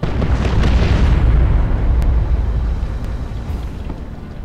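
Incoming artillery fire in Dawn of War II: a loud, sustained explosive roar with rumbling booms that swell and then slowly fade, punctuated by a few sharp cracks.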